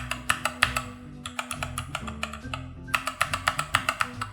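Typing on a Cooler Master CK550 mechanical keyboard without O-rings makes close, crisp key clacks in quick irregular bursts, with a short pause before a faster run of strokes.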